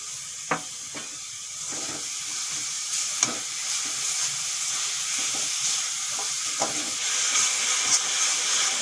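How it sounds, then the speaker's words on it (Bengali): Grated coconut fries with melted jaggery in a wok, giving a continuous sizzling hiss broken by occasional scraping strokes as it is stirred. "দেখুন নারকেল ভাজা প্রায় হয়ে গেছে।"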